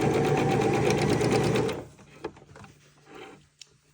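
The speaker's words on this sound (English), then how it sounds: "bring it over to the sewing machine. And we're going to sew our darts," Sewing machine stitching darts on purse fabric, a fast, even mechanical whirring for about two seconds that stops abruptly, followed by faint handling clicks and rustles.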